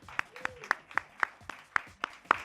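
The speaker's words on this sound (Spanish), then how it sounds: "Un aplauso para los dos, por favor." Faint, evenly spaced claps from a studio audience at a televised debate show, about nine sharp hits in a steady rhythm rather than a dense roar.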